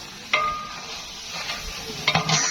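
About 1.5 kilograms of tomatoes cooking in fried masala for chicken chana pulao, with a soft sizzle and a few scraping stirs of a spoon against the pot, close and fairly quiet.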